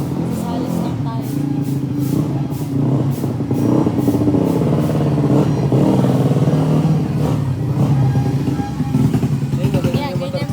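A motorcycle engine runs close by with a loud, steady rough drone and rhythmic clatter throughout, while voices talk over it.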